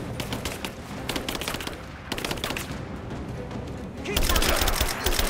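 Rapid automatic gunfire from an upgraded weapon in Rise of the Tomb Raider rattles in dense bursts, pausing briefly before a louder, heavier volley, with a voice speaking over parts of it.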